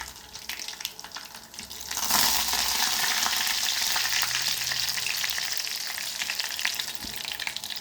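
Mustard seeds, cumin and curry leaves hit hot oil in a pan, a loud sizzling hiss that swells sharply after a couple of seconds and holds steady, with faint crackles and no talk.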